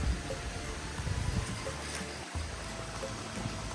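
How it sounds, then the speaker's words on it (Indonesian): A mountain-spring stream flows beside garden land in Indonesia, a continuous close burble and rush of water with no talking. "aliran air seperti ini. Ini langsung dari mata air pegunungan ya"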